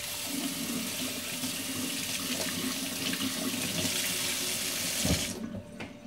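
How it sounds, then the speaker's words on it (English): Tap water runs in a steady, full stream over an Ikelite 8-inch underwater camera dome port as it is rinsed during scratch repair, then cuts off abruptly near the end. "And we're gonna rinse that off a little bit."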